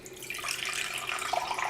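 Lukewarm water is tipped into a bowl holding sourdough starter, a short splashing pour that rises slightly toward the end.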